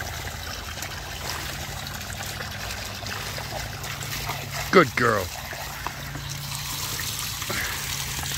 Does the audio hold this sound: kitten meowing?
no